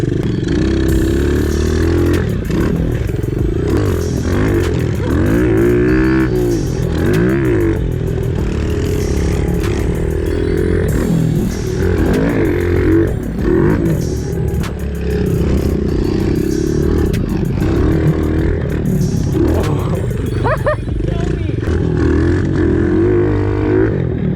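Pit bike engines buzz and rev continuously through warm-up laps on a dirt obstacle course. Several small engines rise and fall in pitch as they pass, loud and close throughout.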